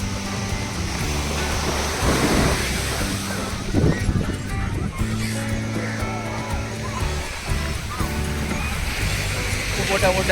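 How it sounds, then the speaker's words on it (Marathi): Big ocean waves rolling in at Poovar beach in Kerala, a loud continuous surf wash with people talking and some music-like tones over it. "मोठ्या मोठ्या लाटा येत आहेत"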